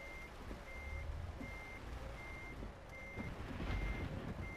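Repeated electronic reversing beeps from a long truck backing in during Euro Truck Simulator 2 gameplay, steady evenly spaced tones over a low engine rumble, with no talking.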